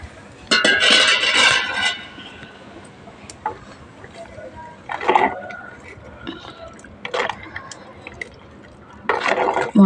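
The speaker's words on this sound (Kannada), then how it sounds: "ನೀರೊಂದು ಸ್ವಲ್ಪ ಹಾಕ್ಕೊಳ್ತಾ ಇದ್ದೀನಿ." Water poured into ground masala in a clay pot cooking over a wood-fired stove, heard as three wet splashing bursts with dripping between them, fairly close.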